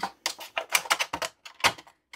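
Scissors snip through a flat sheet of plastic quilting template, giving a run of crisp, close, separate cuts in quick irregular bursts with short gaps, heard alone.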